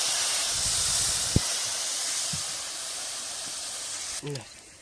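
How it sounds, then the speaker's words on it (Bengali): A steady steamy hiss as water hits spice masala frying in a pan for chicken masala, loud throughout, with a faint tap early on and a short clatter near the end. "মশলাটা একটু লেগে যাচ্ছে বলে হালকা করে জল দিয়ে দিচ্ছি"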